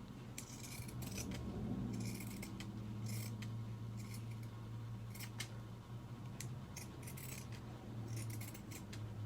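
Scissors snip along the fabric edges of a sewn hair scrunchie in a run of quick, close, repeated cuts over a steady low room hum.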